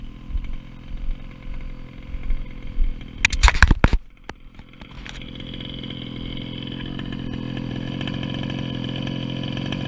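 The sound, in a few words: nitro RC car engine idling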